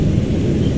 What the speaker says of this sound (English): Whoa! It's stormy.